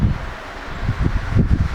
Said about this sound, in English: Man, this wind is really catching up.